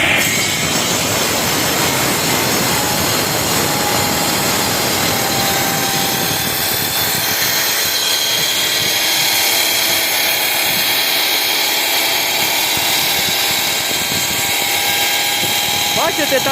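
A brick-cutting machine slices facing brick, giving a loud, steady, high-pitched grinding whine with a broad hiss that holds for the whole stretch. The low rumble eases partway through.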